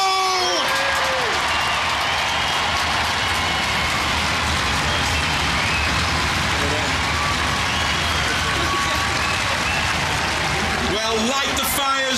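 Crowd at a Robot Wars European championship trophy presentation for champion robot Tornado claps and cheers loudly and continuously, with whoops rising over the steady roar of applause throughout.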